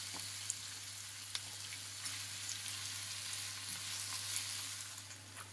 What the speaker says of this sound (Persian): بعد از اینکه گوشت چرخ کرده کمی تفت خورد